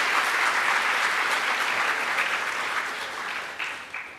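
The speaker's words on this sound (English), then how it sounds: "Can we have a round of applause for all the people I mentioned?" A hall full of people at a postgraduate orientation applauds in a dense, sustained wave that gradually thins and fades toward the end, with a few separate claps.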